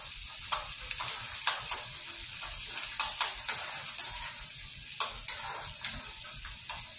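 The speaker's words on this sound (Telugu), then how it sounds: "వంకాయలు కూడా ఇందులో వేస్తే వంకాయలు ఆనియన్స్ 2 ఈక్వల్గా వేగాలన్నమాట" Onions and eggplant fry lightly together in a pan, a steady close sizzle broken by regular scraping knocks as they are stirred, with no talk.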